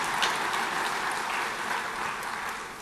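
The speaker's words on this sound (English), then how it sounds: "that is a very weak applause" Thin, scattered clapping from a conference audience rustles along steadily at a modest level, with no one talking over it.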